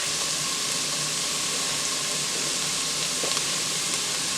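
Onion and garlic sizzle in a frying pan, a dense, even hiss of frying that holds steady from start to finish, close and fairly loud, with no voices over it.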